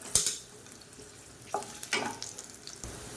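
Garlic cloves and a small piece of tamarind fry and crackle in hot oil in a pan, with several sharp stirring scrapes and clatters over a soft continuous sizzle, close and alone.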